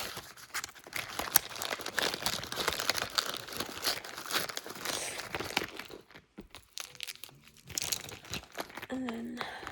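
Crinkly plastic packets of hydrocolloid plasters rustle and crunch as hands rummage through a bag, busy and close up, with a softly spoken voice talking over parts of it.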